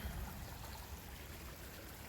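Creek water rushing steadily over a beaver dam, a continuous broadband wash with strong low rumble, close and unbroken with no voices.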